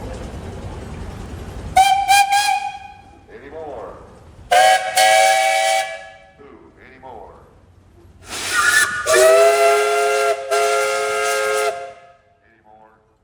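Steam tractor whistle at a tractor parade, several loud shrill toots of rising length with hissing steam between, and a person calling out briefly in the gaps.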